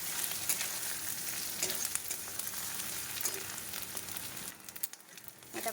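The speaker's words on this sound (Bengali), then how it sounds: "এটাকে আবার একটু কষিয়ে নেব" Ginger and garlic paste sautés in hot oil, giving a continuous soft sizzle with light stirring clicks; the frying eases briefly near the end.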